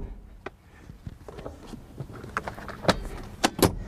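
Rear seats of a 2017 Honda Ridgeline folding down, a series of soft clunks, latch clicks and thumps spread over a few seconds, with the sharpest knocks near the end, close and moderately loud.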